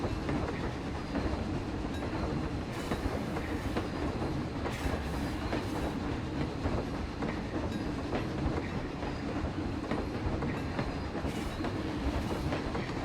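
Coaster train ride in the Planet Coaster video game, a steady loud rumble of rolling wheels with rhythmic clickety-clack and occasional squeals, continuous and without talk.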